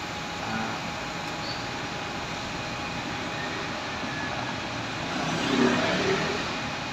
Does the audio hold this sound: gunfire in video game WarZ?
no